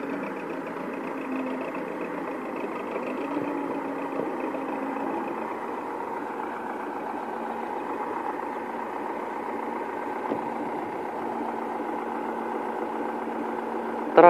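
A tractor pulling a disc harrow through a corn field, a steady mid-pitched engine drone with working rumble that holds constant and fairly loud throughout, with no talk.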